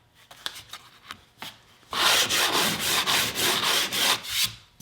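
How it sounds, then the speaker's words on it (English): Sanding along wooden edge banding on veneered board, a few light scratchy strokes followed by several seconds of steady, close, rhythmic rasping back-and-forth strokes. "The main thing is not to sand through the veneer."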